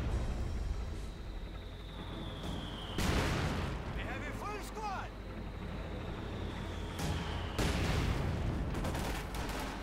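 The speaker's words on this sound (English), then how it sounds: "part a bit of lighter fire support there with machine guns" Bursts of machine gun fire and heavy battle noise in the World War II strategy game Company of Heroes 2, with rattling volleys, whistling projectiles and a constant rumble of combat under a commentator's voice.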